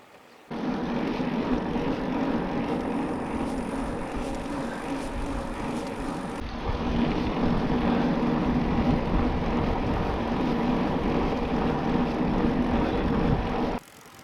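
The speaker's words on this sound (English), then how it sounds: "I love riding past this irrigation pump" A roadside irrigation pump runs with a steady, droning mechanical hum, rising slightly about halfway through and holding constant at close range before cutting off, heard from a passing bicycle on a rural road near bamboo and passion fruit crops.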